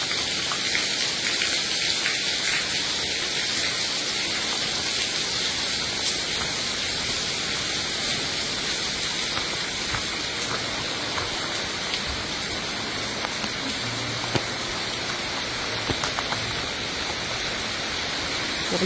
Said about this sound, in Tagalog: Nililid na ako kasi umuulan.